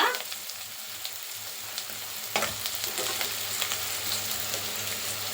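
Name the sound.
onion and spices frying in a pan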